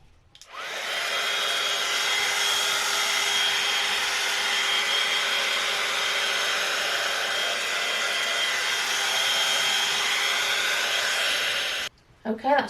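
A handheld heat gun blows hot air steadily to dry acrylic paint on a painted, gilded bottle vase, a loud, even broadband whoosh running unbroken for about eleven seconds before cutting off, followed by brief handling knocks.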